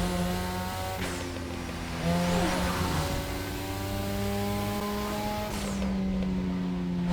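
A Mazda RX-7 rotary engine in a video game revs high and shifts through gears repeatedly, the pitch climbing and dropping in sweeps, loud and continuous.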